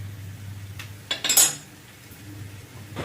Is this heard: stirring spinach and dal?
yes